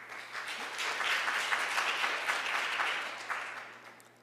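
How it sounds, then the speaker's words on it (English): An audience at an international food security symposium in Korea gives a round of applause to welcome a speaker, a dense, steady wash of clapping lasting several seconds that swells and then tapers off. "please join me welcoming her with a round of applause"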